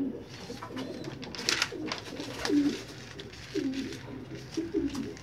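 Domestic pigeons in a loft coo in soft, repeated low calls, fairly close and quiet, with some rustling and flapping between the coos.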